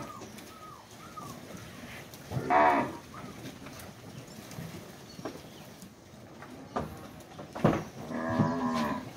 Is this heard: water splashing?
no